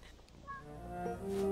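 A cat in the Cozy Grove video game gives a soft, rising meow that swells and lingers near the end, clear and close with no talking over it.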